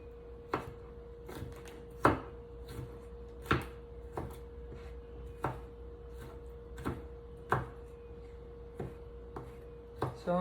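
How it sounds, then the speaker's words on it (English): Knife chopping jalapeños on a cutting board in slow, irregular strokes, each a sharp tap over a steady low hum. "So I'm just chopping up my jalapenos, dicing them"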